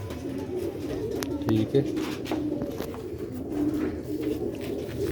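Old Sialkoti pigeons coo in low, soft repeated murmurs close by, with someone talking over them throughout.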